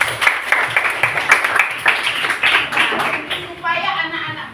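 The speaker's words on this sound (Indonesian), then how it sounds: "tepuk tangan untuk Jason" Classroom applause for a student named Jason during a maths lesson on circles, a steady patter of many hands clapping for several seconds under an adult voice talking.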